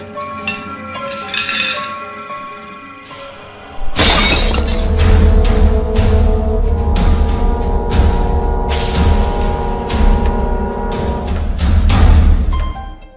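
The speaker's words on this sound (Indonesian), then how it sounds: "Piring yang melayang itu langsung meluncur cepat dari atas meja, jatuh bebas dan pecah berderak." A plate slides off a table, drops and shatters with a sudden loud crash, followed by a long spill of clinking and tinkling shards that lasts several seconds.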